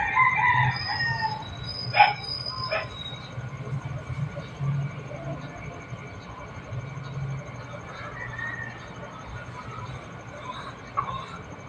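A rooster crows near the start amid clucking and quiet farmyard background noise, with scattered faint sounds afterward.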